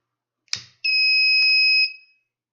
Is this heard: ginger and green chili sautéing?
no